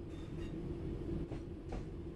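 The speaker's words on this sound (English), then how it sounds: "Bring this train to a complete stop by moving the power brake handle into the braking range." Train in Train Sim World 4 braking to a stop, a steady low rumble of rolling wagons with a couple of brief hissing swells, fairly quiet and without speech.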